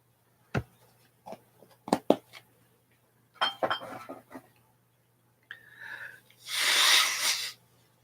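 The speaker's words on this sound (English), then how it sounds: "I accidentally snorted in right before I blew my nose." A sharp sniff and scattered clicks and snuffles, then a long, loud, breathy nose blow near the end, all close by.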